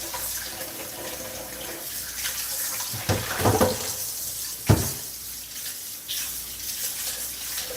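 Tap water running into a sink or bowl to soak saltfish for cooking, a steady close stream with a couple of brief splashes and clatters partway through, no talking.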